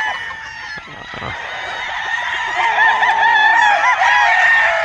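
Young pullet hens on a farm cluck and chatter in a steady close flock, with bright overlapping calls and a rooster-like crow rising above, no talk.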